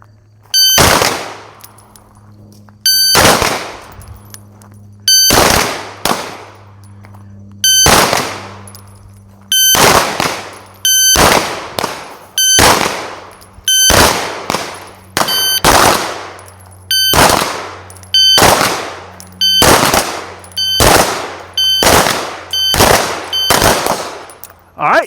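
Sharp pistol shots ring out in quick pairs and short strings during a competition shooting drill, each set preceded by a high electronic shot-timer beep, repeating steadily over a low hum.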